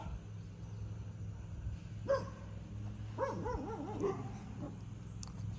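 A few distant dog barks and yips in short bursts over a low steady background hum, fairly faint and separated by pauses.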